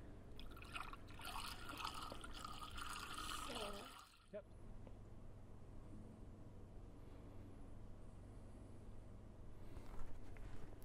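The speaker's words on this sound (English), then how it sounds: "for the quicker fill, we can go ahead and fill the radiator here." Coolant is poured into the radiator of a Jeep Grand Cherokee WJ with the 4.7-litre engine, a steady gurgling liquid fill for about four seconds, then it stops, leaving a quiet workshop hum.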